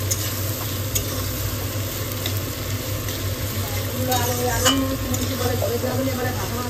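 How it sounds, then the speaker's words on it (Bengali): Sliced onions for beresta fry steadily in hot oil toward golden brown, giving a continuous close sizzle with occasional spoon scrapes and light clinks against the pan, with faint voices in the background. "এখন বেরেস্তার পেঁয়াজটা ভাজা হচ্ছে, এটা একটু গোল্ডেন ফ্রাই হবে"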